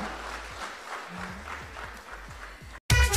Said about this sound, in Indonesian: kita berikan tepuk tangan yang meriah untuk Bapak Mike Surjadi